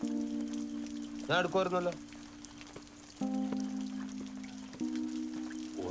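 Steady rain falls throughout as a constant broadband hiss, with people talking over it in the foreground.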